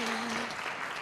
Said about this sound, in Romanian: Aplauze pentru echipa galbenă!